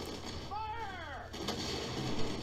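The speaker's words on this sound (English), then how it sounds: "They've got a towed artillery gun." A towed artillery gun firing in the World War II strategy game Sudden Strike 4 during the Operation Overlord mission, with sharp, booming gunfire bursts and battle noise while a game voice briefly calls out over them.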